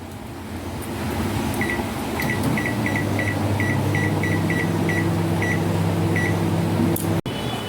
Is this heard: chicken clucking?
no